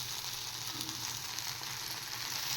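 A paste of ginger, garlic and onion hits a hot pan in which okra was just fried, giving a soft, steady sizzle that hisses on without a break, quiet and alone.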